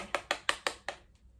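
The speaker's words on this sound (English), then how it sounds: "I don't know if you can hear the construction outside." Construction work outside near a preschool where the playground is being rebuilt comes through as five sharp, evenly spaced knocks or hammer strikes, moderately near, followed by a faint trailing tap.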